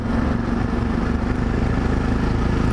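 A Yamaha Ténéré 660 motorcycle riding along fills the scene with a steady, loud engine drone and wind rush, heard up close from the rider's position without any talk.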